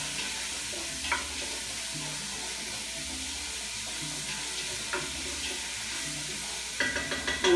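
Meat browning in a pot, seasoned with salt and pepper, giving a low steady sizzle with occasional stirring knocks and a cluster of louder clatters at the end, close and without talk.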